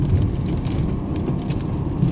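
Thunderstorm with rain heard from a car while driving among trees and houses, a steady heavy wash of rain and low rumbling, loud and continuous with no distinct crack.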